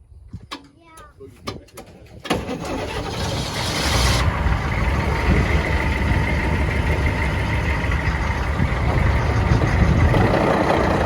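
A Humvee shifted into four-high lock rumbles with steady, loud engine and drivetrain noise that swells after a brief quieter start with faint voices, then holds a broad continuous roar.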